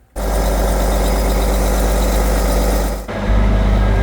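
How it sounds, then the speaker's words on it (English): A luxury RV engine with an air leveling system idles loud and steady with a deep, constant rumble, dips briefly, then settles back into a smooth idle. "let's go ahead and fire it up"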